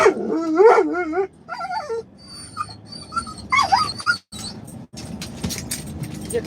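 A dog riding along in a car through town toward a park yelps, whines and barks in a quick, excited series of high, close calls that trail off into quieter rustling.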